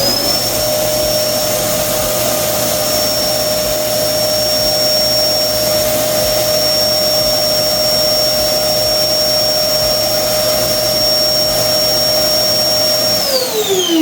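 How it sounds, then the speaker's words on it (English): A vacuum cleaner runs steadily on power from a Pecron F1000LFP LFP portable power station, a loud, constant whining roar with a high tonal whine throughout that winds down at the very end. "let's go ahead and crank this vacuum up and see if it can actually start it."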